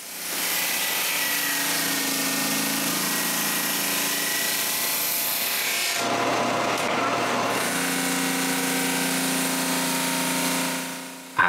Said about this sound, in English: I pass this through the drum sander